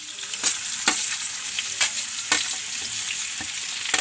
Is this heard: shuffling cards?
no